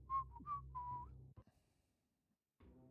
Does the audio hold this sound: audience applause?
no